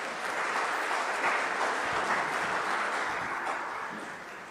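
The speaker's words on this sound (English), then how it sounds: "Give another round of applause" Church congregation at a Solemnity of the Assumption service breaking into steady, dense applause that holds evenly at moderate loudness and fades slightly toward the end.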